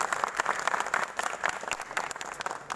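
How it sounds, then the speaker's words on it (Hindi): An audience claps in a brief burst of lively applause, many hands patting unevenly and close by. "एक बार जोरदार ताली से ये करें"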